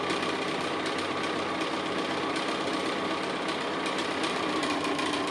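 Sewing machine stitching fabric on the bias for flying geese quilt units, a continuous rapid mechanical whirring and clatter, close and steady throughout with no talk.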